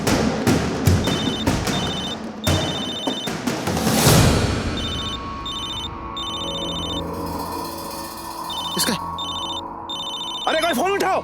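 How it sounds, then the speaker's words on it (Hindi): A telephone rings with repeated bursts of bright electronic trilling, loud and close, mixed with voices and dramatic sound effects in a TV drama scene. "अरे कोई फोन उठाओ"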